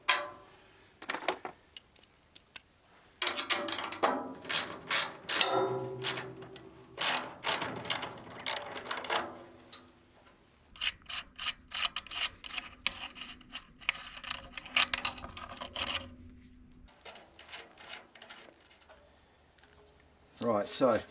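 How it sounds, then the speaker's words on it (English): A small socket ratchet works loose a hardwired light fitting, making bursts of rapid clicking pawl sounds broken by short pauses and handling noise. The sound is close, with a voice now and then. "I'm just going to go with a little socket because I've got them handy."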